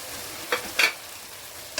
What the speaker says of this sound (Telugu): ఇప్పుడు ఇందులో కొంచెం పన్నీర్ కూడా మనం వేసుకొని వేయించుకుందామండి